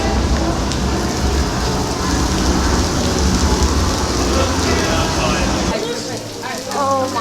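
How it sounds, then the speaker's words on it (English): Heavy, cold rain pours down loudly and steadily at an outdoor theme park, a dense broadband hiss of drops on surfaces, easing slightly near the end as voices start to talk. "so that you can see what the rain is like"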